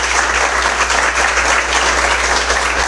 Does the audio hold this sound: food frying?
no